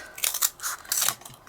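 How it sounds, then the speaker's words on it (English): Scissors snipping through a stack of four layered cardstock pieces during a stamping craft project: a few quick, crisp cuts close to the microphone in uneven bursts, with no talking. "Let's grab some scissors."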